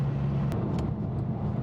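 Cabin drone of a Gunther Werks Porsche 993 Coupe with an upgraded 435-horsepower engine, a steady low engine hum and road rumble while driving, with a couple of faint clicks.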